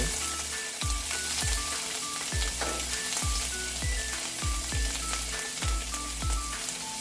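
Mushrooms stirred in hot oil for a Spanish quiche, giving a steady bright sizzle with a series of regular scraping knocks from the stirring utensil against the pan, fairly close and alone.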